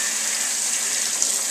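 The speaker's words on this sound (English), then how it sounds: "I grab my spray hose and I just put it on there" Hot water from a spray hose rinses juicer screens, a steady loud hiss of spraying water with no breaks across the whole stretch.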